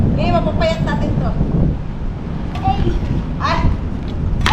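Strong wind buffets the microphone outdoors, giving a rough, continuous low rumble, while children's voices and shouts break through at intervals.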